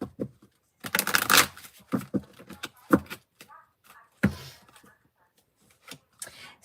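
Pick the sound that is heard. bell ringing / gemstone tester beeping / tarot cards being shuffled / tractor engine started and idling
tarot cards being shuffled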